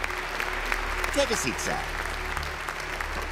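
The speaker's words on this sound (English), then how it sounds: "Ladies and gentlemen, give him a round of applause." Cartoon audience applause at a stage hypnosis show, a steady wash of clapping that runs the whole time under a man's spoken line.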